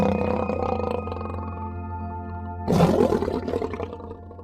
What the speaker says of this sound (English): a gentle yet mighty roar echoed through the jungle